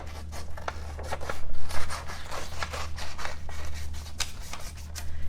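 Scissors cut out printed paper letters for a DIY Montessori sand letter board, giving a steady run of close crisp snips and paper rustles without speech.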